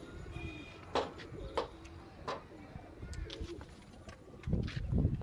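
Pigeons coo in a rooftop loft, giving several low, throaty coos in short bursts close by, with wing flutters and a person speaking faintly in the background.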